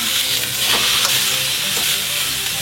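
A beef shoulder roast sears in a hot pan, giving a loud, steady, dense sizzle and hiss that runs unbroken throughout with no voices.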